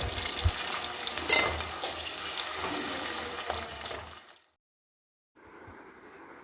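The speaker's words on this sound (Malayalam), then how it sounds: "കുറച്ച് ഉള്ളി പൊരിക്കില്ല, അതിൽ ജസ്റ്റ് ഒന്ന് പൊരിച്ചെടുക്കുക." Onions frying in ghee in a home kitchen give a steady crackling sizzle with a few stirring knocks for about four seconds, then a brief silence before a softer, hissing frying sound returns.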